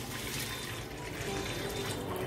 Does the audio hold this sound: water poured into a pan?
yes